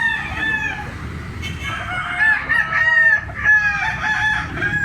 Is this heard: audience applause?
no